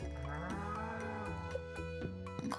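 Cows moo in the farming video game Stardew Valley: a drawn-out bovine lowing over a steady layer of game music, with a few soft clicks, no voices.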